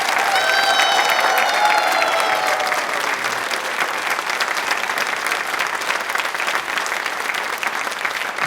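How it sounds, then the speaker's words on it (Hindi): An audience of women at a televised Rajasthan program applauds loudly and steadily, with a brief high tonal sound at the start fading under the continuous clapping. "अपने लिए जोरों से शोरों से एक बार तालियां बजाएं पहले।"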